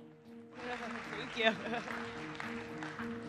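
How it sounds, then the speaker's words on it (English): An audience claps for a panel at a conference talk. Steady applause starts after half a second and continues at a moderate level while a voice speaks over it. "Let's give them a round of applause again."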